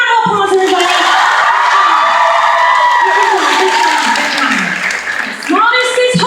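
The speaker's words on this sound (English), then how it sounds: "Give a round of applause, everybody" A live theater crowd at a tour show in Columbus, Ohio, applauds and cheers with whoops and children's shouts, loud and continuous, while a voice carries on over the noise.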